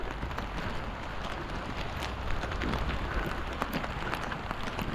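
Heavy rain pours down outdoors near rice paddies during stormy weather, a dense, even hiss with scattered patters and splashes, loud and close, and nobody speaking.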